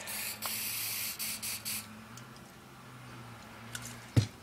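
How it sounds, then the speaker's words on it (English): Short bursts of aerosol spray from a can aimed into a hole during the teardown of a rare Maytag appliance, several hissing puffs near the start, then quiet handling and a sharp knock near the end. "if spraying stuff in that hole will actually leak down into the bearing at all"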